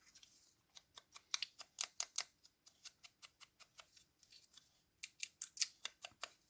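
Scissors cutting around a paper pouch for a flipbook, a quick run of crisp snips in two bursts with brief pauses between, close and clear with no talk.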